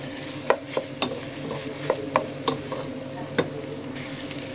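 A spoon stirs mashed boiled potatoes with onion for masala dosa bhaji in a pan, giving a run of sharp scraping clicks against a low steady sizzle, close and moderately loud with no talk.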